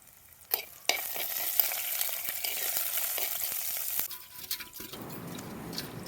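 Curry leaves dropped into hot oil in a pan, a loud close sizzle with spoon stirring and scraping, quieting toward the end with no voices.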